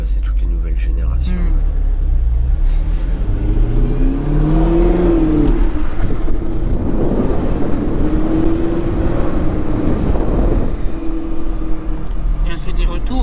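Audi R8 V8 engine revving, a deep rumble that rises and falls through several throttle blips, close and loud with people talking over it.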